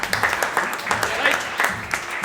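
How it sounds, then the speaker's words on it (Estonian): Audience applause at a youth band festival in Saaremaa, a moderately loud, steady patter of clapping lasting a couple of seconds, with voices mixed in. "teeme Raikule veel ühe aplausi"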